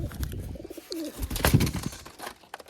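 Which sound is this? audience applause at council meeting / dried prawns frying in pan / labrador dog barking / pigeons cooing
pigeons cooing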